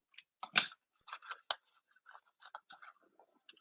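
Scissors snipping through mini ruffled ribbon in a quiet room, a handful of crisp close-up cuts and rustles with short silent gaps between them.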